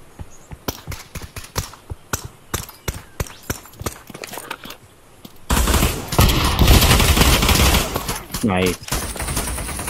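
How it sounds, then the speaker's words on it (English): Rapid gunfire in the virtual reality shooter Pavlov VR: sharp single shots in quick bursts, then a dense, loud sustained volley of automatic fire, with a brief spoken remark. "I'm shooting at his legs."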